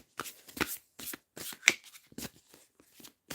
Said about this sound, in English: I've given them a good shuffle